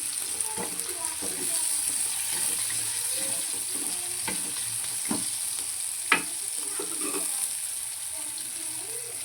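Soaked green peas being stirred and mixed in oil in a pan for a puri sabji, with a continuous soft frying hiss under repeated close scraping strokes and one sharper knock.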